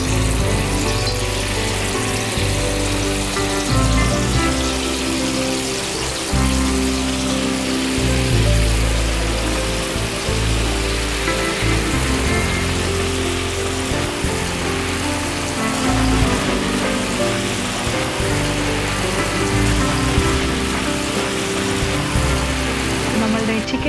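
Marinated chicken pieces fry in hot rice bran oil, a dense, steady crackling sizzle like heavy rain that continues loudly throughout with a busy, bubbling texture.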